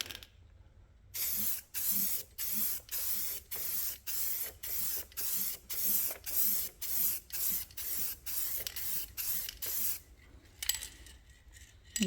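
A spray can hisses in about a dozen short, even bursts as a coat of paint goes over a vinyl cut stencil, each loud blast separated by a brief pause, with no talking.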